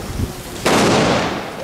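A Funke comet bomb firework erupts on New Year's Eve with one loud, sudden blast that hangs on as a broad roaring rush and slowly decays, following a few softer thumps just before.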